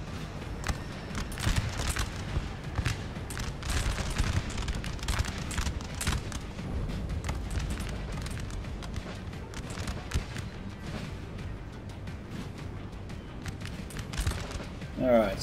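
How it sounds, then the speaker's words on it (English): Cannon fire from an artillery strike in Napoleon: Total War, heard as faint, scattered booms and thuds over a steady battle din at low level. "A bit of an artillery strike there."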